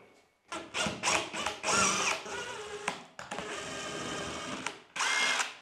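A power drill bores small screw holes, running in several short loud bursts with brief pauses between, close by, with no talking.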